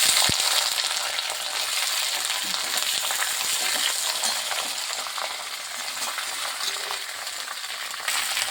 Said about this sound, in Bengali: আর দিয়ে দিচ্ছি কাঁচা লঙ্কা ভালো করে এটা একটু ভেজে নিচ্ছি যখন মেথিটা একটু ভাজা ভাজা হয়ে যাবে